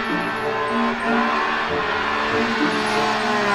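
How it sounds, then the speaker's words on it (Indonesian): A toy race car runs with a steady, continuous motor whir and hum at moderate loudness, with no talking. "ada mobil balap"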